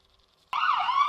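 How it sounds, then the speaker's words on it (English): A toy ambulance siren starts abruptly after a short silence and wails close and loud with a steady electronic tone for about half a second. "The ambulance."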